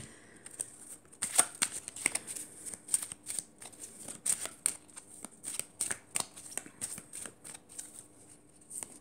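A deck of oracle cards is shuffled slowly and gently, giving a close run of soft riffling flutters and light slaps in an uneven rhythm, with no talking.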